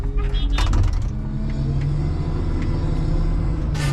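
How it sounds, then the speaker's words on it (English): A truck pulls in on a farm during potato harvest, its engine giving a low steady rumble with a hum running under it, close by, plus a few brief hissing bursts. "There's a truck that just pulled in right here"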